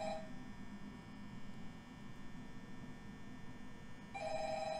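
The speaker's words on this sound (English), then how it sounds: "The phone!" A telephone rings in the Five Nights at Freddy's video game, a steady electronic tone over a low hum, with the ring clearest at the start and again near the end.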